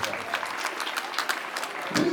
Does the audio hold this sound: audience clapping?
yes